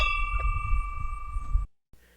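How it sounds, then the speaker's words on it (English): A notification bell rings once as a bright sustained ding with lingering metallic overtones. A low thumping sits beneath it, then the sound cuts off abruptly. "ding that bell so that you don't miss a single edition"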